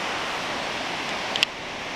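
A waterfall at Phiang Din, Thailand, roars as a steady, dense rush of water noise throughout, with one brief click near the end.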